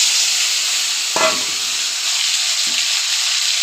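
Ground ginger, onion and cumin paste hits a hot pan with a loud burst of sizzling, then settles into a steady, close frying hiss with a brief stir partway through.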